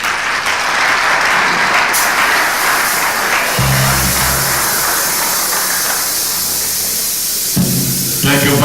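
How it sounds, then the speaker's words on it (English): A banquet crowd in Ebonyi honoring President Buhari applauds in a loud, continuous roar of clapping, with some voices and amplified sound audible beneath it. "a better round of applause for His Excellency, the President"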